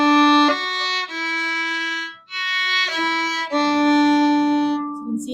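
A bowed string instrument plays a held long note followed by two short notes in one bow stroke, then repeats the pattern, clear and close with brief gaps between phrases.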